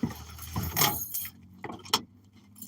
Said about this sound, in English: going to throw my keys on the ground,